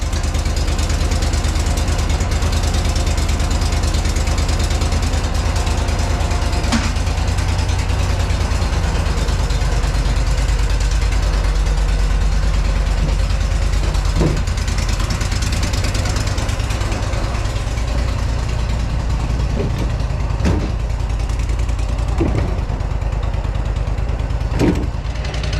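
A Walker Panther mower engine in a Walker MT runs cold on a roughly 25-degree day with snow on the ground. It gives a loud, steady, rough idle close by with occasional clanks and knocks, and no talking.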